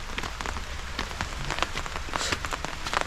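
Rain falls steadily across a cardamom plantation in Kerala, a dense patter of drops striking leaves and surfaces close by, with scattered louder splashes throughout and no talking.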